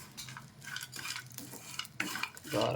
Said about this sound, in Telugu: ఆ స్మెల్ పోయి అంతవరకు వేయించాలి